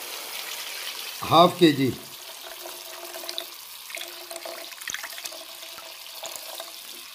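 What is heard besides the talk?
water being poured into a cooking pot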